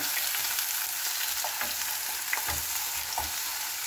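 Carrots and potatoes fry in a pan with a steady, close sizzle. A few soft stirring knocks come through the hiss and no one speaks.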